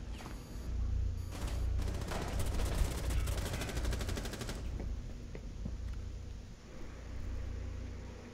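Enemy gunfire in the tactical shooter Rainbow Six Siege during a yacht hostage match: dense bursts of automatic fire and shots, loud and sustained for several seconds, then scattered single shots fading over steady background noise.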